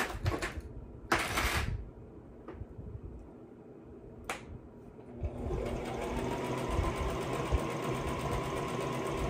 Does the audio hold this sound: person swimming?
no